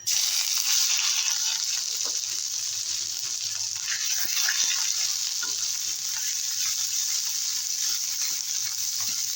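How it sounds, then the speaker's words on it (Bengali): Nigella seeds, two dried red chilies and grated ginger sizzling in hot mustard oil as a tempering, a steady loud crackling fry with occasional stirring clicks, close up. "ফোড়নে দেবো কালো জিরা আর দুটো শুকনো লঙ্কা আর দেবো গ্রেট করা আদা"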